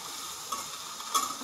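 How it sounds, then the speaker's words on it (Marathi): Okra stir-fried in hot oil: a brief, soft, steady sizzle with a couple of light scraping stir sounds, close and quiet. "5 मिनिटं आपल्याला असंच तेलामध्ये परतून घ्यायची भेंडी"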